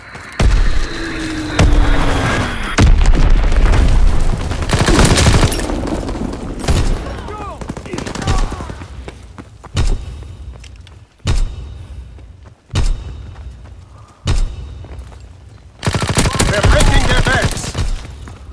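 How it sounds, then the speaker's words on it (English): Loud bomb blasts and bursts of gunfire ring out in a Call of Duty WW2 team deathmatch on the Gibraltar map, arriving as heavy booming hits and sharp volleys separated by short gaps, with game voice announcements mixed in. "Enemy bomb incoming."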